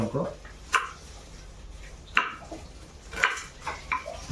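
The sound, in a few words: cutting malabar spinach (poi) stalks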